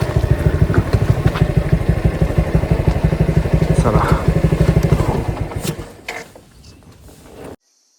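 A motorcycle engine idles with a steady, fast low putter, loud and close, then cuts off near the end leaving quiet background, at Lohagad fort.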